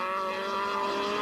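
Touring race cars, including an Audi, dicing closely at Killarney circuit in a 1998 race. Steady, loud engine drone with sustained tonal harmonics, no passing swell, continuous throughout.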